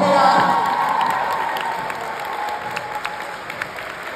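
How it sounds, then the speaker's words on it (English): Comedy show audience breaking into loud sustained applause with some cheering, the clapping gradually fading over a few seconds. "can you all give a massive round of applause for the other acts tonight?"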